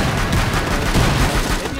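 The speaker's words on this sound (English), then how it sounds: "This is the cluster charge!" Fuze's cluster charge in Rainbow Six Siege goes off as a dense, loud flurry of rapid blasts that crackle together into one short barrage.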